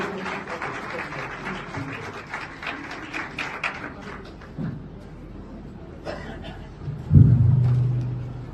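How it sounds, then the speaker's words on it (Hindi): Audience applause at a Mother's Day celebration at Arya School, a dense clapping wash with chuckles and chatter that thins out, then a brief low rumble near the end. "जोरदार तालियां, तालियों में कमी ना आए"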